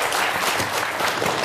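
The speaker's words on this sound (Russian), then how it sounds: "Занимайте свое место, пожалуйста, ваши аплодисменты." Studio audience applause on a Russian television food show, a brief, loud, dense burst of many people clapping close to the microphones, holding steady for the whole moment.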